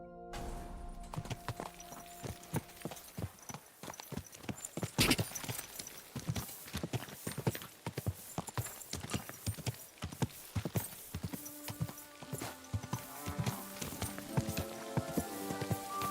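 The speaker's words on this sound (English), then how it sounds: "What a beautiful horse." Steady clip-clop of horse hooves in Kingdom Come Deliverance 2, a continuous rhythmic trot lasting throughout, with occasional louder hoof strikes and tonal game sounds layered underneath.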